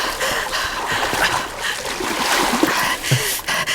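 Water splashes and trickles in the horror game The Quarry, a steady wet churn across the whole stretch, with brief louder splats and a faint voice underneath.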